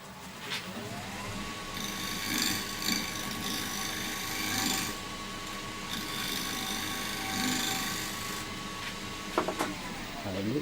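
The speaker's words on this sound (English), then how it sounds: "Just running gently on that edge, building up very smooth shavings." Hand tool run gently along a wooden edge, raising smooth shavings in a continuous close rasping scrape with shifting tones and a few sharp ticks near the end.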